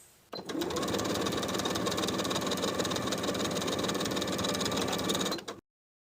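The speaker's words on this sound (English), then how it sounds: "top stitch right below that seam with a 1/4 inch seam allowance from one side to the other" A sewing machine top stitches a quarter-inch seam on a cotton jumper, running in one steady, continuous buzzing burst for about five seconds, close and clear, then stopping into silence.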